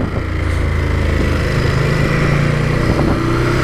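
A Ducati Monster 821 motorcycle being ridden, its engine droning loud and steady throughout with a constant throb and no speech.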